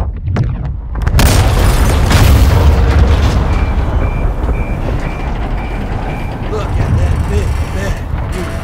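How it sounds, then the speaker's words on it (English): A missile strikes an oil rig in the Dark Water mission of Call of Duty: Modern Warfare 2 on PC, setting off a sudden heavy boom. A long, loud rumble follows, with faint repeating beeps and muffled radio voices underneath. "All stations, prepare for the boom."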